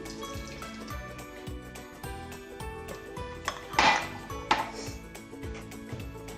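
A cream-slice custard mixture being whisked in a pot for kremšnite, with a steady rhythmic scraping and clinking of the whisk against the metal, loud and close, including a couple of sharper knocks.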